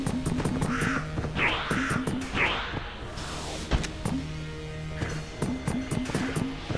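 The Gatling Gull boss in the video game Enter the Gungeon gives repeated harsh cawing cries over a busy bed of gunfire thuds and impacts, loud and continuous throughout.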